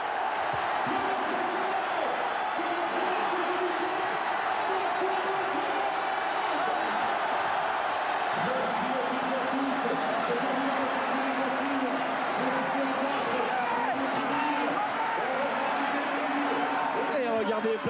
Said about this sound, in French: regardez aussi à Lens les applaudissements magnifiques des supporters lensois